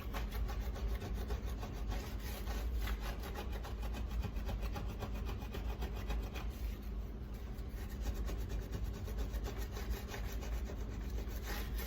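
A plastic scrubber is worked back and forth over a glass stovetop, giving a continuous, close, rapid rasping scrape with an even rhythm and no voices.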